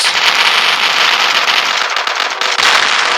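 A grenade launcher fired in the mobile shooter Coalition, giving loud, dense crackling blasts in a rapid run with a brief dip before a final burst.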